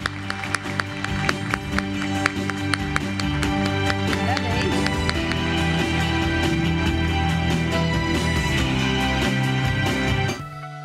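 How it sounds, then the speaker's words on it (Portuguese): Dense applause from the audience at a rice market forum at the Expointer agricultural fair fills the room with steady rapid clapping for about ten seconds, then stops abruptly, with music playing underneath. "Uma salva de palmas a todos"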